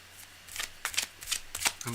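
A deck of tarot cards shuffled by hand, with a rapid series of crisp riffling bursts and flicks in quick succession, close and fairly loud, ending with a brief voiced sound.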